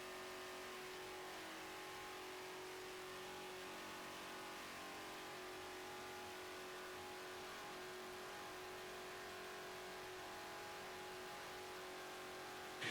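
A NASCAR stock car being driven around Daytona International Speedway, heard from inside as a steady, loud engine drone with a constant mid-pitched whine that holds even for the whole stretch, no talk over it.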